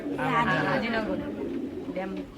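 Soft, low cooing of pigeons at the Saroliya pigeon market in Bangladesh rises and falls in a short burst, blended with nearby chatter.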